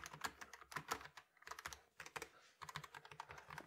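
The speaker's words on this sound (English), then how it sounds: "typing feels great on this." Quick, uneven bursts of typing on a Logitech G915 TKL mechanical keyboard with light tactile switches, close and crisp clacks in short runs with brief pauses, no speech.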